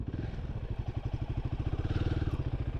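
A Kawasaki Versys-X 300 motorcycle engine idles and putters at low revs, a close, steady, evenly pulsing thump with slight variation in pace.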